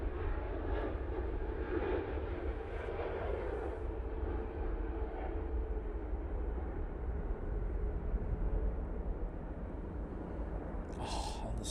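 A Lufthansa Airbus A320neo takes off for Munich from Manchester Airport, its jet engines a sustained rumbling roar at a moderate distance that holds steady throughout, with no voices.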